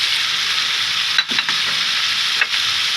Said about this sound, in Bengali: এবার ভেজে রাখা পটলগুলো দিয়ে দিব, সাথে দিয়ে দিব ভেজে রাখা চিংড়ি মাছ